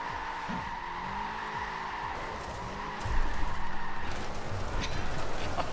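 Car tyres squeal and skid in Forza Horizon 4 as the car spins out in a failed drift, a steady engine drone with the skid growing louder and rougher halfway through.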